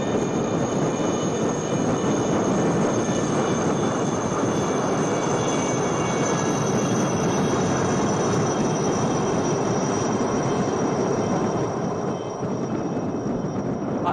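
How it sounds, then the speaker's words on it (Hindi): Six Chetak helicopters fly in diamond formation at a naval fleet review in Visakhapatnam, creating a steady, dense rotor and engine roar that stays loud and unbroken throughout. "Coming up next are 6 Chetak helicopters from the 321 flight in a diamond formation."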